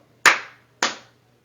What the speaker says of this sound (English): you're going to clap real quick